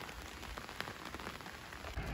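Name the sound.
rain falling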